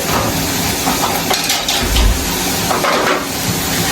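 Onions sautéing in a pan for a stomach-cleansing curry give a continuous loud sizzle broken by a few metallic utensil knocks against the pan.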